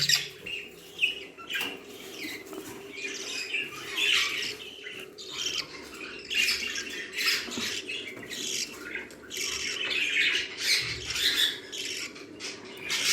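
Budgerigars in a nest box squawk and chirp continuously in overlapping scratchy calls, close and moderately loud, with a low steady background hum.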